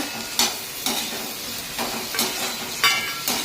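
Chopped brinjal and capsicum fry in a pan, stirred with regular scraping strokes about twice a second over a steady close sizzle.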